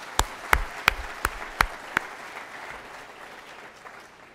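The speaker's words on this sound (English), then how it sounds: "Please join me in giving them a big round of applause" An audience claps for university orientation leaders and staff at an international student orientation: about six sharp, evenly spaced claps stand out, then fade to a quiet room.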